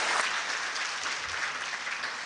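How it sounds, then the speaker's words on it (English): An audience applauds in a steady, dense wash of clapping that holds at even loudness throughout, with no voices on top. "Let us give them a good clap"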